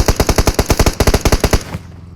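Rapid automatic gunfire rings out in the BGMI battle royale game on the Erangel map, a loud, close, steady burst of about twenty evenly spaced shots that stops abruptly.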